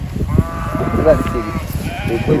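A goat in a shepherd's herd bleats close by, a wavering cry over a noisy background with people talking.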